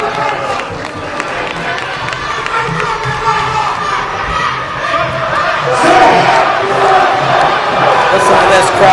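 Crowd at a North West Pro Wrestling show roars and cheers continuously, a dense wash of shouting voices that swells louder toward the end, with a commentator's voice faintly mixed under the noise.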